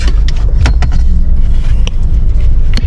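Heavy, congested road traffic fills the scene with a steady, loud engine rumble and road noise from nearby vehicles. Occasional brief clicks and rattles sound over it, and no voices are heard.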